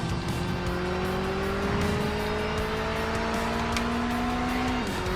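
A Mazda MX5 launches hard after a clutch drop, its engine note rising steadily and loudly as it accelerates, with brief tyre chirp early on and a sharp drop in pitch near the end as the gear changes.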